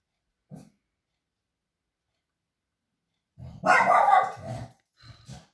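A female dog inside a home barks at a mail carrier outside: one short bark, a pause, then a louder burst of barking and growling followed by a few softer yips, all fairly faint.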